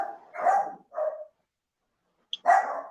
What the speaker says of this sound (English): that's the first time I heard him bark like that